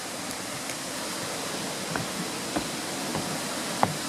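A waterfall below the Twin Falls footbridge on the Baden-Powell Trail near Vancouver, a steady distant hiss of falling water with a few faint footstep taps and creaks from the bridge.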